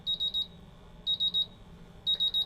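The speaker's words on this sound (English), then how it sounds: "all the 4 sensors that are currently being bump tested are at least in a low alarm" A MultiRAE gas detector in low alarm during a bump test gives three bursts of rapid high electronic beeps, four beeps in each burst, loud and steady over a faint hum.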